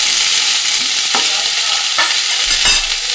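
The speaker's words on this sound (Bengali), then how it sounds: "ফুলকপি, ব্রকলি, তারপর তোমার বিনস, ক্যাপসিকাম সমস্ত কিন্তু ভাজা হয়ে গেছে।" Cauliflower, broccoli, beans and carrots fry steadily in a wok, a continuous loud hiss with a few brief scraping stirs, heard alone.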